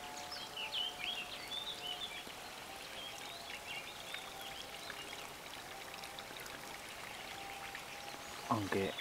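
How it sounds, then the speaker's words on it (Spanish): Sewage water pouring from a pipe into the Molino stream, a steady quiet splashing trickle that runs throughout, with a faint voice and a short bump near the end. "estamos viendo un vertido de aguas fecales al arroyo del Molino"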